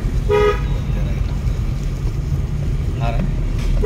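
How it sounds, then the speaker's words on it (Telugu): A car horn sounds twice during a night driving lesson, a short toot near the start and another about three seconds later, over engine and wind noise while an instructor talks. "హారన్ అప్లై చేసుకోండి"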